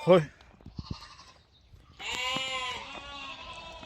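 Hisari breed male lambs bleat loudly up close, a short sharp cry followed by a longer wavering bleat, with brief rustling between calls.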